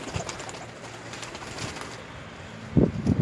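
Pigeons at a tournament coo softly in short low bursts, growing louder and nearer toward the end over a quiet outdoor background.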